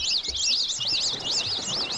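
Birds calling by the sea, where seagulls are present, in a rapid, high, warbling chirp that repeats continuously and sounds fairly close, with faint low background rumble beneath.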